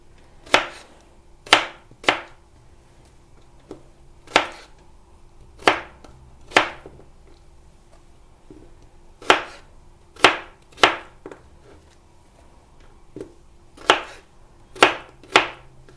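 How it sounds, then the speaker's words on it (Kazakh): Cucumber cut with a knife for a salad, sharp separate chops on a board coming in uneven bursts of two or three, close and clear with no talking. "Келесі қиярды да дәл осылай етіп тураймыз"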